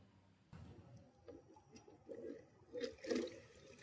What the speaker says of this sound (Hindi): पाइप से थोड़ा थोड़ा करके पानी बाहर आ रहा है जब उसको घुमाया जाता है तब।